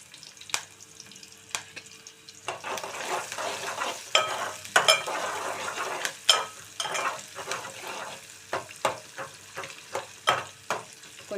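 Curry leaves, torn from large sprigs, fry in a pan of oil with a steady close sizzle, broken by repeated sharp scrapes and clicks of a spoon stirring them, with no talking.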